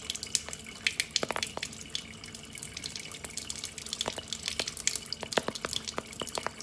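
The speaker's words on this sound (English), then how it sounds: "hold up a lighter to the water and you'll hear a popping and crackling sound" Scattered sharp pops and crackles from water held under a lighter flame, irregular and close, over a steady watery hiss with no talking.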